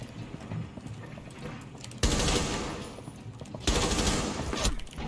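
Rainbow Six Siege gunfire on the North Star map, quiet shuffling at first, then two loud bursts of rapid fire cutting in and sustaining, close and harsh.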